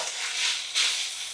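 Raw corn kernels sizzle steadily in a hot pan, a brief, close hiss of frying with no talk.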